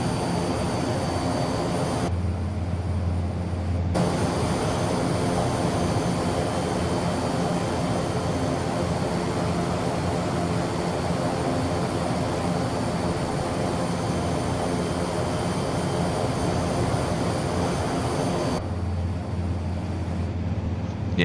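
A steady, continuous drone of a classic-style plane's engine in Microsoft Flight Simulator 2024 hums without pause at an even level, with no talking.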